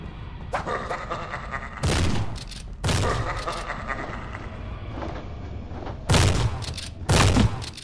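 Bursts of gunfire in the Vampire Slayer first-person shooter video game, several loud blasts spaced a second or so apart over a busy game soundscape.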